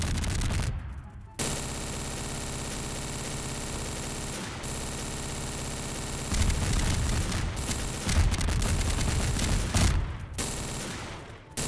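Bombs explode in Garry's Mod during a Poppy Playtime maze map: a busy barrage of booming blasts and crackling gunfire, with loud bursts near the start and denser, heavier explosions toward the end.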